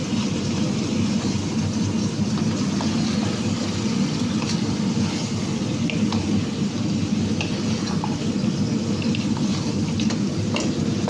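Meat being stirred into okra in a pot, a steady close rumble of mixing and scraping with faint clicks, continuous and fairly loud throughout.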